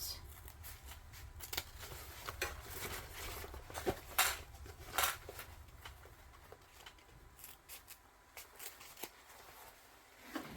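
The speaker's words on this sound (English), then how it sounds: "I'm going to cut these down a little bit." Scissors snip through fabric while a bag is being trimmed down, giving a run of crisp, close cutting clicks and rustles at an irregular pace over soft background noise, with no talking.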